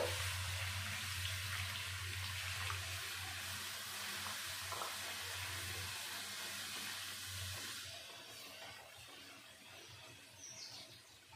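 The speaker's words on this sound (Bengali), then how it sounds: "এবার দিয়ে দেব জল।" Water pours steadily into a milk and semolina mixture in a hot pan, a continuous bubbling rush that hisses as it hits the heat, without a break for several seconds.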